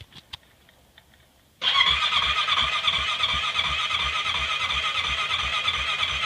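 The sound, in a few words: Honda Rancher ATV engine cranking on a cold start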